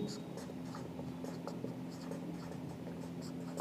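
A pen writes by hand in a steady stream of soft scratching strokes, close and quiet, over a constant low electrical hum.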